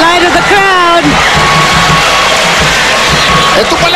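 Crowd cheering and roaring at a service-branch volleyball quarterfinal between Army and Air Force during set 5, a loud sustained roar throughout, with a commentator talking over it early on.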